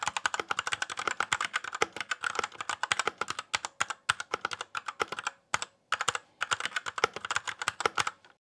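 Rapid typing on a mechanical keyboard before modding: a steady run of sharp, close clicks and clacks, briefly pausing about two-thirds of the way through before resuming, with no voices.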